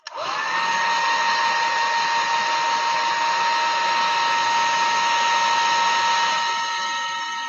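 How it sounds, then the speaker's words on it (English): A blow dryer roars steadily at close range, a continuous high whine switching on abruptly and running unbroken before easing off at the end. "So forgive the blow dryer."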